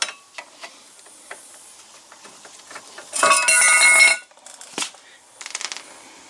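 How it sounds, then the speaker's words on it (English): Two 15mm caliper bracket bolts come out of a Buick LeSabre brake assembly. Faint metallic ticks and clinks lead into a loud, harsh ratcheting or rattling burst of about a second, followed by a few more clinks and a short metallic rattle. "You can take these 2 bolts out now."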